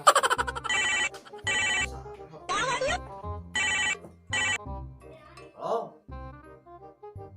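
A phone rings with repeated bursts of a bright electronic ringtone in a regular on-off pattern, loud and close, with voices talking briefly between the rings.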